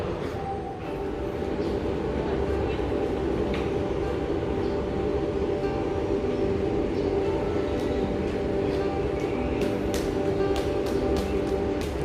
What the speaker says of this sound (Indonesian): Kalau itu kereta miniatur ya,